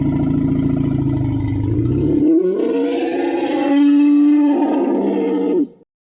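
A reconstructed dinosaur roar, meant as scarier than a movie T-Rex growl: a deep, rumbling low growl that shifts midway into a louder, sustained bellowing roar, heard alone and close before cutting off.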